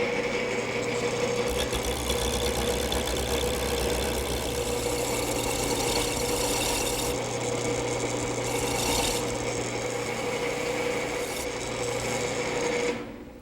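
A wood lathe spins a blank while a gouge turns it into a column, giving a steady, loud, continuous whirring and rasping cut that runs unbroken for the whole stretch, with no talking.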